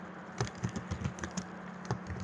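Keys clatter on a computer keyboard as a new spreadsheet sheet tab name is typed in, a short burst of soft, uneven taps heard close and fairly quiet.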